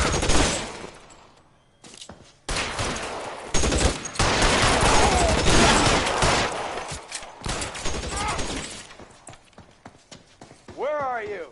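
Gunfire in the video game L.A. Noire, with irregular bursts and volleys of shots mixed with loud stretches and quieter gaps, and voices talking over the shooting.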